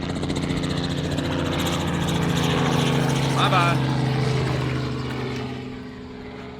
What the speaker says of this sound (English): Got helicopters flying over us,